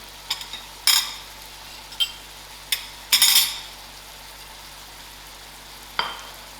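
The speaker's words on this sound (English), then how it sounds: "allow the masala to fry within the livers" Lamb livers fry with garam masala, jeera and dhania powder in a pan, giving a low sizzle broken by a few sharp utensil clinks and scrapes, close and fairly quiet.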